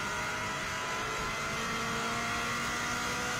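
A Prodrive Subaru Impreza rally car accelerating hard on the Isle of Man TT course, its engine a loud, steady roar throughout with heavy wind and road noise filling the cabin.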